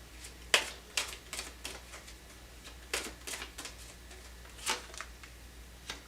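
Tarot cards are handled and drawn close up in a quiet room, producing a string of soft taps, flicks and light snaps scattered unevenly, with no talk.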